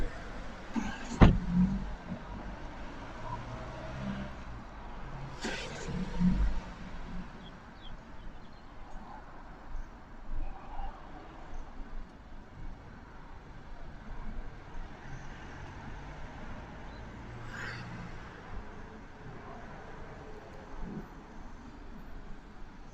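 A UK police car pulls off and drives away along a road, its engine and tyre noise receding into a soft roadside rumble, with a few sharp thuds early on and faint passing traffic.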